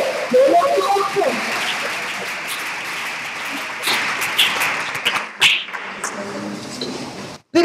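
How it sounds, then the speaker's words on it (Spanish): A church congregation claps and calls out during an evening service, scattered applause and shouts rising and fading unevenly, mixed with voices and small taps in a reverberant room. "Pero Abraham no aplaudió ni gritó, sí, Señor, como ustedes están haciendo esta noche"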